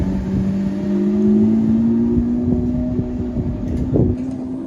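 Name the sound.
Lamborghini Aventador sports car arriving and revving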